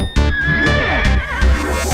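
A horse neighs loudly in a played recording, a shrill, quavering whinny that rises and trembles over about two seconds, close and clear with no voices.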